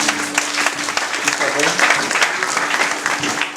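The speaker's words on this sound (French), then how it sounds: "Acclame pour toi-même." A church congregation applauds and cheers together, a dense steady wash of clapping and voices throughout, with speech mixed in.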